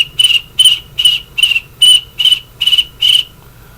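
Crickets chirp in a steady rhythm, eight bright, high pulses roughly every half second, loud and near over a faint low background drone, then stopping before the end.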